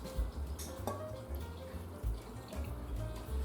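About a cup of water poured into a baking pan around a beef pot roast seasoned with butter and Worcestershire sauce, a continuous close splashing trickle with low, thumping handling noises beneath it and no speech.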